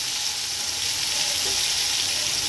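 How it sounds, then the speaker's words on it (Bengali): Boiled potatoes fry lightly in hot oil already used for frying duck eggs, a close, steady, hissing sizzle with no breaks. "একটু হালকা ভেজে নেব।"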